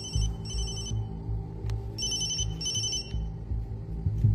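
An electronic phone ringtone trills in repeated bursts over a low, steady background hum.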